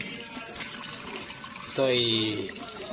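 Cold water poured while preparing camping food, a sudden gurgling, filling splash that rises in pitch and cuts in partway through, over a quiet outdoor background.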